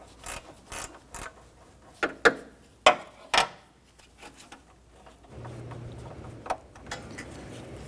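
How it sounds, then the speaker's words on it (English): A gear ratcheting wrench on a 2006-2010 Hummer H3 3.7L backs out the bolt holding the AC condenser to the radiator, making close, crisp clicking bursts and ratchet ticks, then a lower steady hum. "we're going to use our gear wrench, and we're going to unbolt the AC condenser from the radiator on the passenger side"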